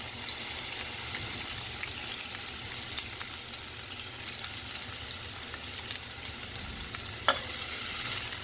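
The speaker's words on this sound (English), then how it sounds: "Let's saute this up a bit." Onions, garlic and cabbage sauté in a pan with a steady, close sizzle and occasional soft stirring clicks, with no talking.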